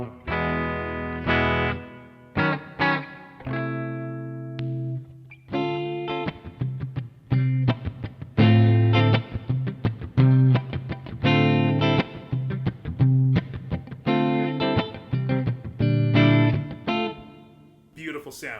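Electric guitar played through a Tech 21 Fly Rig 5 with reverb switched on, a sequence of distorted chords and single notes with ringing sustain and brief pauses between phrases.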